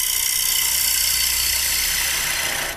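A round carbide cutter hollowing a wooden bowl on a lathe, a loud continuous whirring, scraping cut that holds steady and then eases off at the end.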